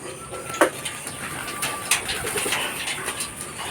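Pigeons cooing close by while being fed grain, soft repeated coos over a noisy background with a couple of sharp knocks and clicks.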